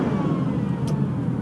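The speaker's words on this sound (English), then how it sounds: "Let's just annoy these people with some revs." A Ferrari SUV's engine rumbles loudly and steadily outdoors, with a brief higher rasp partway through the short burst.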